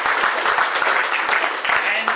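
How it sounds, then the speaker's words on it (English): An audience at a VR/AR association Q&A session claps for the four panel speakers, a lively, fairly loud burst of applause with a few sharper hand claps standing out near the microphone. "please give a round of applause to the 4 gentlemen over here."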